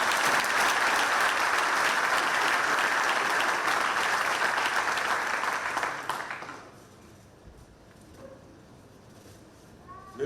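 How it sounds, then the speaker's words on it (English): Audience applause fills a hall at the ninth World Ranger Congress in Sauraha, Chitwan, Nepal: dense, steady clapping for about six seconds that fades quickly into near silence, with a faint bird call afterward. "So a big round of applause for them."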